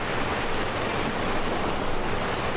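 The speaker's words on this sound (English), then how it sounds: "Where the rushing water is, that's your natural stream." Rushing water of a natural stream running beside a fish ladder at Damariscotta Mills, Maine, a loud, continuous broadband roar heard close up with no voices over it.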